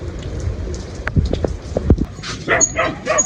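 A dog in a rural setting barks a few short, sharp times at someone approaching, fairly close, over a background of steady rain.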